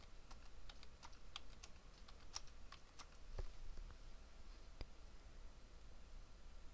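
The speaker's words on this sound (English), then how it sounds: "Another way is to use the space bar on the keyboard." Computer keyboard keys, including the space bar, are pressed in a quick, irregular run of soft clicks that thins out to a few isolated taps, faint and close against a quiet hiss, with no voices.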